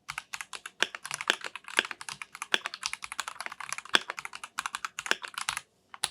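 Rapid typing on an RK M75 mechanical keyboard fitted with brown switches, close and clear, with dense clacky keystrokes in an uneven rhythm and a short pause near the end.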